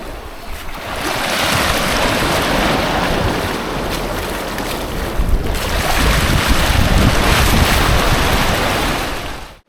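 Ocean waves break and wash at a beach in Valletta, Malta, with the tide coming in while people swim; a loud, continuous roar of surf mixed with heavy wind buffeting close to the microphone.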